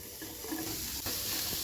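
Chopped onion pieces sizzle steadily in a pan with cumin and fenugreek seeds while a fish curry is being prepared, a close, continuous frying hiss with light stirring and no talking.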